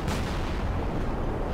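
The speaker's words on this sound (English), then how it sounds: "that was a very physics-realistic explosion" A tank gun shot and explosion in the video game War Thunder, fired from a 29-K self-propelled gun, come through as a dense, heavy boom that fills the short moment and fades slightly.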